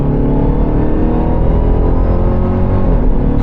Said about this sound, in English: think it's time for a couple downshifts.